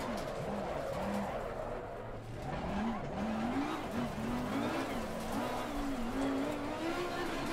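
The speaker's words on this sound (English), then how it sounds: "You're not really meant to be drifting GT3 cars." GT3 race car in the Assetto Corsa Competizione racing game drifts with sustained tire squeal over a wavering, revving engine note, loud and continuous throughout.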